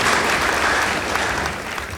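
A school debate audience applauds the winning team, a steady wash of many hands clapping at close range that carries on throughout without letting up.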